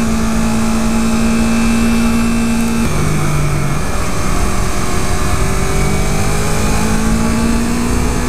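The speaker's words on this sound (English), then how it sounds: "I'm revving this a little bit" A 2015 Yamaha R3 motorcycle engine drones steadily near the listener, its pitch stepping down and then rising again as it is revved.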